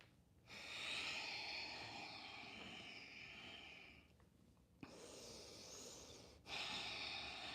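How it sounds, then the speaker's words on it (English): A person breathes through the nose during gentle bouncing on a rebounder, taking long, audible, airy inhales and exhales close to the microphone, separated by short pauses. "moving the breath through the nose"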